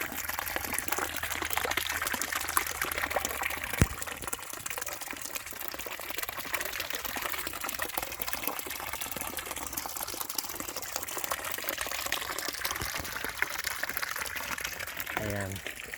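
Clear spring water welling up from underground beside a creek or river, a steady broadband rush and gurgle lasting throughout, with a voice talking faintly over it.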